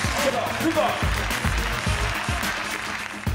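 Crowd at a Longines Global Champions Tour show jumping event in Chantilly applauding after a round, a dense sustained clapping with a commentator talking over it.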